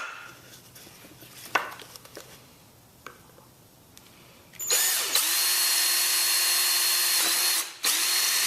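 A power drill bores a hole just below the lip of a water bottle rocket launcher, running as a loud, steady whine for about three seconds after some quiet handling clicks.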